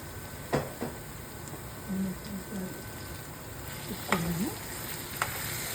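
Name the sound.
mushroom curry masala frying in oil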